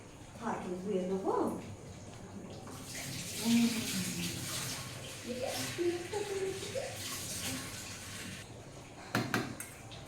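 Water runs from a tap into a bath or sink while a child is washed, a steady broadband splash under intermittent talk from a woman, with brief clatter near the end.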